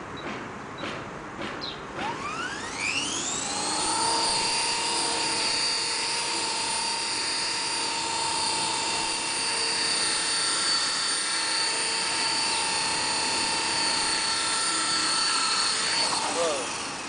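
A small remote-controlled helicopter spins up to a high whine, then holds a steady buzzing tone for most of the flight, with pitch shifting as the throttle goes up and down, close by indoors.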